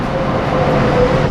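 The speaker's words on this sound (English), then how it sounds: "And that's our train." A loud, steady rumble of a Mexico City subway train arriving fills the space, with a sustained low roar and faint metallic whine, no voices.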